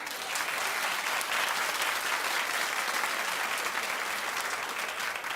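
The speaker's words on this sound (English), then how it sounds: "A clap." A studio audience on a daytime talk show bursts into sustained, dense clapping that holds steady and fairly loud throughout, with no voices rising above it.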